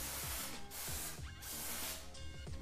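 A spray bottle of disinfecting cleaner, used around a 2008 Yamaha YZ250F dirt bike, fires in quick repeated bursts of close, loud hissing mist, about five pumps in under three seconds, no voices.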